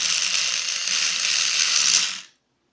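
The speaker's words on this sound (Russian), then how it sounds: "У меня вот такой вот хороший миксер." An electric hand mixer whips a homemade skin cream: a loud, steady mechanical whir with a faint rattle, running for about two seconds before it abruptly shuts off into silence.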